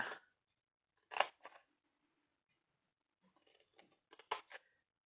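Scissors trim the corner of a small paper square in a quiet room, heard as a few short crisp snips separated by silence, with a quick cluster of snips toward the end.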